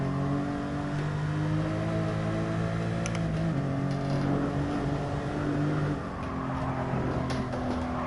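A Porsche race car engine in Gran Turismo Sport drones steadily and loudly throughout, its pitch holding and then shifting slightly as gears change, with no talking.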